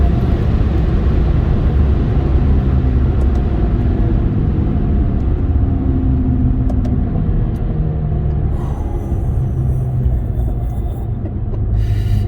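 A 2014 Mercedes-Benz A45 with a 7-speed gearbox accelerates hard, heard from inside the cabin as a loud, continuous, deep engine rumble with no talking.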